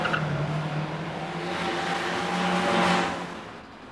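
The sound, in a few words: van driving along a street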